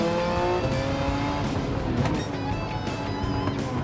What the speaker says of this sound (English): now I'm doing it with the 911 Strassen version